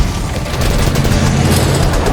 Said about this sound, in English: a large battalion of police arrives and immediately opens fire